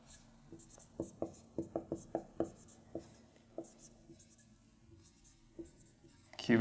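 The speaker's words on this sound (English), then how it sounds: "So writing that out" Marker or chalk writing on a board during an orthopedics lecture, a run of about a dozen short, sharp strokes close by, quick at first and then spaced out, with a faint voice near the start and a louder bump at the end.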